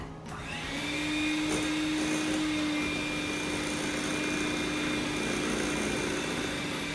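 An electric mixer beats banana bread batter, starting up with a rising whine and then running in a loud, steady, continuous hum.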